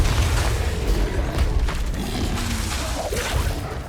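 Confringo spell cast in the Hogwarts Legacy video game, a dense, loud fiery blast and boom with swooshing over continuous combat noise.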